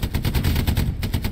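Close, loud machine-gun fire in the World War II shooter Hell Let Loose, a fast, steady rhythm of shots with no talk over it.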